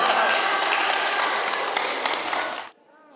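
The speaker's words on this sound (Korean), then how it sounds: "초등학생 아이들이 들어오자 대학원생 형 누나들이 박수로 맞이합니다." Graduate students on a university campus clapping to welcome arriving elementary-school children from an orphanage, a dense, loud burst of applause that stops abruptly near the end.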